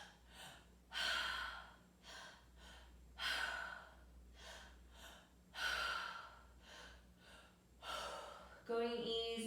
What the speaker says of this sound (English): Two big deep breaths in, quick.